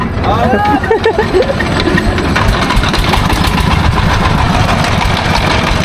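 Trawler boat engine chugging steadily on a sea crossing from Kuakata to Char Bijoy, a continuous low droning throb with splashing wind noise, while someone speaks briefly near the start.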